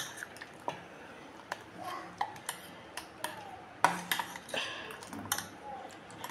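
A spoon clinks and scrapes against a bowl as gram flour batter is mixed with water, irregular taps and soft wet stirring sounds heard up close, with no talking.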